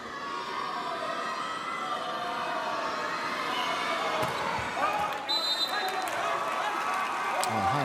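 Partisan arena crowd at a men's volleyball match between France and Serbia, with sustained roar and scattered whistling rising over the noise, plus a commentator speaking.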